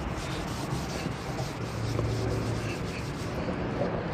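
A rag soaked in WD-40 rubs across a car headlight, giving a steady, soft, continuous scrubbing sound, close and moderately quiet, with no talking.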